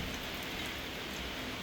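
Heavy rain falling by a pond and barn on a farm, a dense, steady hiss of drops on surfaces, continuous and even, fairly quiet with no voices.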